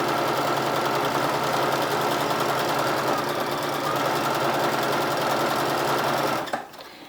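A sewing machine runs steadily at its longest stitch length, gathering fabric with a fast, even mechanical whir and rapid needle clatter close by, then stops abruptly near the end.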